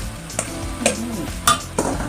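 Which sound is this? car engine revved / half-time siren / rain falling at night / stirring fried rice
stirring fried rice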